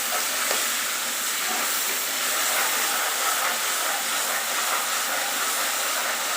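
Tomatoes sizzle loudly in a hot pan of frying white urad dal, a steady, close, bright hiss that holds unbroken throughout with no speech.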